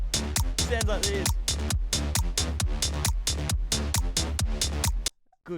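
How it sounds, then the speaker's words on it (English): A drum machine clap sample hits sharply and repeatedly in a steady beat within a self-made song groove. Snappy hits sound over a full mix, and the loop cuts off abruptly near the end. "The clap sounds like this."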